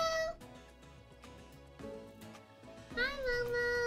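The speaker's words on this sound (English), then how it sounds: "I heard you meowing." A cat meows faintly, with short high mews and a rising, wavering meow near the end, set against game music in New Pokemon Snap.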